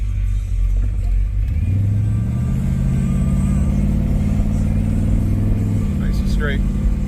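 A Plymouth Belvedere car drives during a brake test, its engine a loud, close low rumble that swells as it accelerates, then drops off sharply as it slows near the end.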